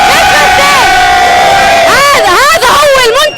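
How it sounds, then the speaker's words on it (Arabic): Moroccan football fans cheer loudly after their national team's win, with a dense crowd roar, chants and rising whoops and shouts in a sustained wall of noise. "الجمهور المغربي كان كل الوقت تشجيع لم يسبق له مثيل"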